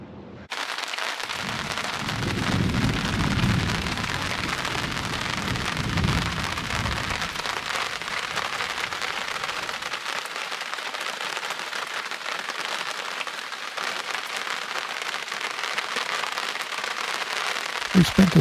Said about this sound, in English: from blue skies and sunny calm to heavy rain with thunder and lightning